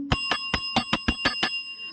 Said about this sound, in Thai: ต้องขอกระดิ่งรัวๆ